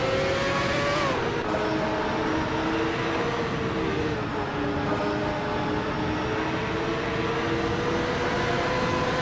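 Race cars in a racing video game, including a Reynard 95i, roar in a continuous engine drone with shifting pitch as they jockey for position, loud and steady with no talk.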